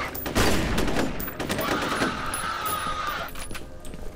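Rapid bursts of gunfire from a weapon in the video game F.E.A.R., loud and dense at first, then continuing as steady shooting with a rising whine in the middle.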